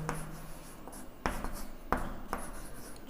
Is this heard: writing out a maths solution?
yes